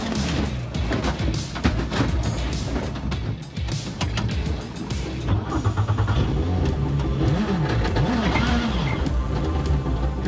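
Volkswagen Polo rally car engine at high speed on a rally special stage at Rallye Le Touquet, revving loudly with rising and falling pitch sweeps, close and continuous over a busy background.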